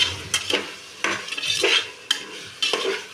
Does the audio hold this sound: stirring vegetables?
yes